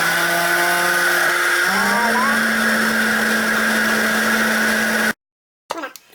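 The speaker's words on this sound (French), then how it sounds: "Nous allons de nouveau mélanger grâce à l'appareil qui mélange." A kitchen blender whirs loud and steady for about five seconds while puréeing eggplant caviar, its motor pitch shifting up partway through, then cuts off abruptly into silence and a brief rustle.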